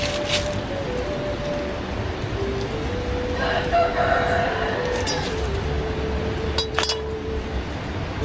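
Chickens crow and cluck nearby in a Colombian yard, a rooster's call rising over steady clucking and a clinking noise against constant background noise.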